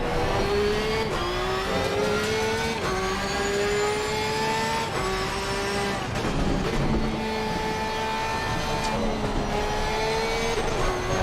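A race car engine in Assetto Corsa Competizione revs loudly and continuously, pitch climbing and dropping through gear changes, with tyre noise and no talk over it.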